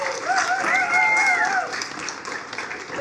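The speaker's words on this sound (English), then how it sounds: "Can you give me another round of applause for that dopamine?" Applause from a conference audience after a presenter's request, moderate and steady, with faint tonal whistling or feedback sweeping above it for the first second and a half.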